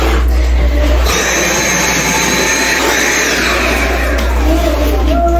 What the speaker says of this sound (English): you gonna vacuum it up for me?